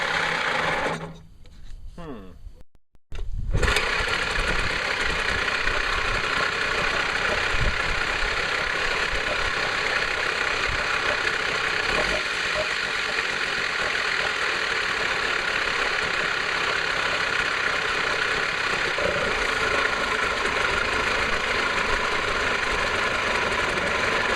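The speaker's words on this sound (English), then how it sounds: "Engine starts every time, propeller spins, throttles up" A Nissan 3.5hp two-stroke outboard motor sputters briefly, then catches and runs continuously with a loud, buzzing, rattling drone close by.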